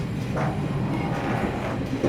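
An old European train pulling out of a station in Morocco, a close, continuous low rumble of wagons rolling with faint rhythmic clatter throughout.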